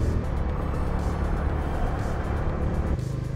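A car driving at a steady, slow pace on a road at night, with continuous close engine and tyre rumble as another car stays behind and then passes, the noise dipping slightly near the end.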